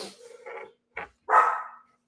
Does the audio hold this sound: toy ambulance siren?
no